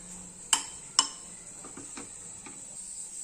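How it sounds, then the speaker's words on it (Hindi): Two sharp metallic clinks of a ladle against a pressure cooker, followed by soft scraping and stirring of cooking greens over a faint high hiss. "साग को कड़छी की सहायता से इस तरीके से एक बारी चला लेंगे।"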